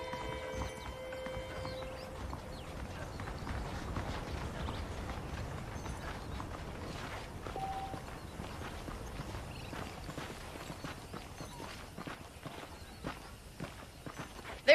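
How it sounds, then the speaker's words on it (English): Saddled horses walking in the Red Dead Redemption video game, a steady clip-clop of hooves with occasional whinnies over a busy ambient backdrop, moderately loud throughout. "The horses are saddled up over here."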